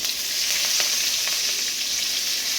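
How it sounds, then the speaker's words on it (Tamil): Dry red chillies frying lightly in hot oil give off a dense, bright hiss that stays steady and close for the whole stretch, with faint crackles and no voices. "ஆனான வரமிளகா போட்டு லைட்டாக ஒரு ஃப்ரை பண்ணுங்கள்"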